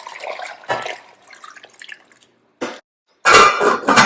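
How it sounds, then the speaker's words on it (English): Water poured into a cooking pot of beef, carrots and red bell pepper for a light soup: short splashing bursts with pauses, ending in a louder, sustained gush close by. "Just add some water"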